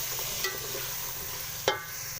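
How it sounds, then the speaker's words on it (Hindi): Green garlic frying in a pan with red chilli, turmeric and dried coriander, a close sizzle with two scraping stirs and an abrupt cut at the end. "अब डालेंगे लाल मिर्च, हल्दी और सूखा धनिया। ये भी साथ साथ फ्राई कर लेंगे।"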